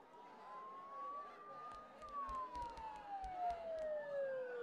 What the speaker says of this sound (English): Don't those sirens sound really close?